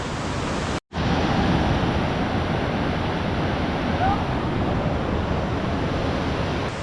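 A waterfall in the far north of Sweden roars as a dense, steady rush of broadband noise, loud and close, with one brief dropout near the start.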